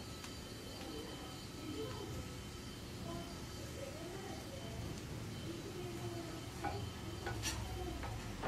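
Mixed vegetables with methi (fenugreek leaves) stir-frying in a pan, with a soft steady sizzle, quiet scraping stirs and a few sharp clinks.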